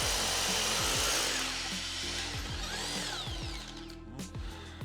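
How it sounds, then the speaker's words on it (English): A power drill grinds steadily while drilling a hole for a car lift installation in a garage, its motor revving and straining in a continuous, loud buzz with rhythmic bumps. "Drilling this first hole took a lot longer than I expected"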